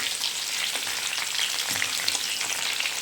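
Masala cooks in a pot over a very low gas flame, giving off a steady, soft sizzle and gentle frying crackle that continues evenly, close by, with no voices.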